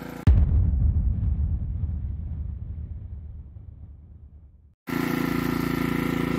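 Heomaito HMT3500iD/HMT4300iD dual fuel inverter generator on propane: a sharp pop as it fires, a rough running rumble that fades to near silence, then a loud steady engine hum resumes.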